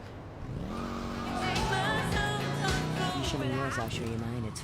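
A motorcycle engine revs and roars in GTA Vice City, rising and falling pitch close up with tire squeal, over game sounds and someone talking.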